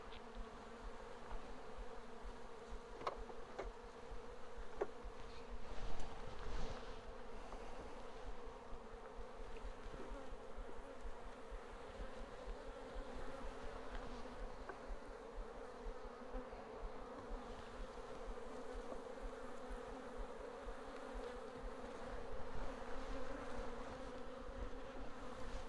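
Honey bees inside a homestead hive drawing out comb, a sustained low droning hum with a few faint clicks and knocks, close and steady throughout.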